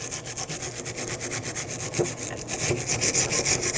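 Rust and debris are scrubbed off the rear brake bracket of a 2006-2010 Hyundai Sonata in fast, steady back-and-forth scraping strokes, close and loud, with no talking.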